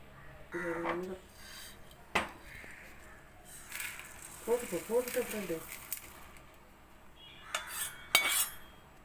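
Lentils roasting for a hotel-style paruppu podi are stirred in a pan, with sharp scattered scrapes and clinks of a utensil on metal between stretches of a voice talking.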